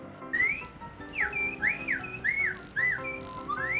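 A slide whistle played over GTA 5 voice chat glides up and down in repeated swooping arcs, loud and close, one continuous run of sliding pitches with background game noise underneath.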